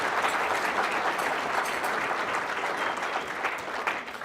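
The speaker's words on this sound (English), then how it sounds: "A big round of applause for the district leadership." Sustained applause from a luncheon audience at a Veterans Day event, a steady dense wash of many hands clapping throughout, fairly loud and unbroken, with no voices on top.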